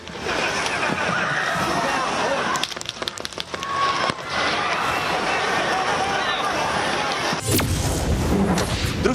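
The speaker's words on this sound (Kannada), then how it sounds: "ಡೊನಾಲ್ಡ್ ಟ್ರಂಪ್ ಮೇಲೆ ಗುಂಡಿನ ಸುರಿಮಳೆ." Gunfire at the shooting attack on Donald Trump at a rally: a few sharp cracks burst out of loud, continuous crowd noise, with a later crack followed by a drop in the din.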